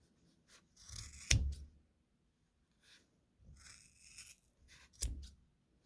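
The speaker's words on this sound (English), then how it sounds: "Now we're going to take our scissors, and all of these loops at the end, we're just going to take them and cut them" A few quiet snips of scissors cutting yarn loops, two sharp cuts separated by soft rustling, close and isolated.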